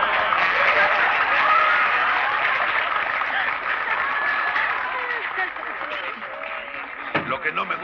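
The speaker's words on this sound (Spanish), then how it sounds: "¡Un aplauso!" A studio audience in a Mexican comedy claps and cheers loudly and continuously, the applause slowly thinning toward the end with a brief voice cutting in.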